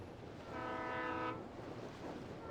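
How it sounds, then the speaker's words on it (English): A train in Alan Wake sounds a long, steady horn blast over a low rumbling roll, heard at moderate distance before fading into the rail noise. "It's a train!"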